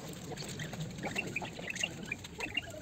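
A turtle bird calling at a nature park campground: a few short, faint piping notes repeated irregularly over a steady outdoor background, with no talking.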